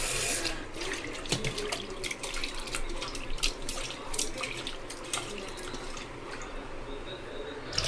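Tap water runs into a sink while prawns are washed, a continuous splashing flow with scattered drips and clinks, close and fairly loud throughout.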